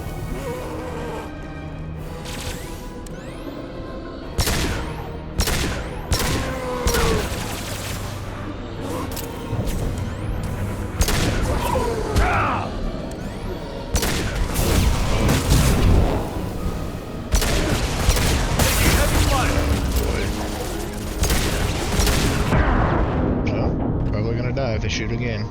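Enemy gunfire in Mass Effect Legendary Edition, with repeated bursts and impacts building to a dense, loud exchange of shots and blasts through most of the clip, while a player talks over the combat.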